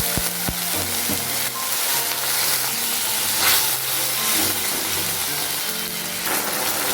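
Ginger and green chilli paste sizzles in hot oil with a splash of water added, a loud continuous hiss and crackle close up, with stirring scrapes and a few clinks at the start.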